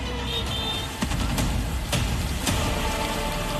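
Heavy rain pours steadily across the streets of Jodhpur, a dense hiss broken by a few sharp splashes or passing vehicle sounds.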